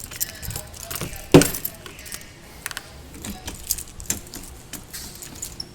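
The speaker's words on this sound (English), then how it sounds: "Same set of keys." A set of door keys with round and square heads jangles in the hand while the right lock key is sought, with a sharp clink near the start and scattered lighter rattles after.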